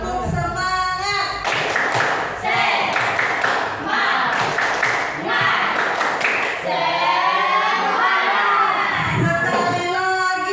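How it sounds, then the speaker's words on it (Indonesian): A classroom of children performs a rhythmic tepuk semangat clapping chant, bursts of group clapping broken up by loud chanting and shouting voices, close, energetic and lively throughout. "Kita akan lakukan tepuk semangat lagi, bisa?"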